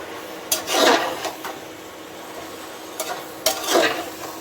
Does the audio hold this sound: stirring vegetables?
yes